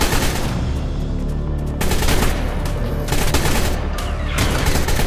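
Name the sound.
gunfire shooting at a creature in video game ARK Survival Evolved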